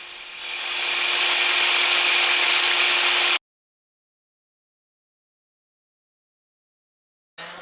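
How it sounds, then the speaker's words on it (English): A saw cuts grooves into wooden blocks meant as clothes hangers: one steady, loud, rasping pass lasting about three seconds, then silence, with a brief start of the cut again at the very end. "sawed in some grooves for the hangers to rest in"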